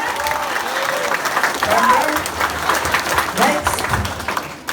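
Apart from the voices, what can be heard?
audience applauding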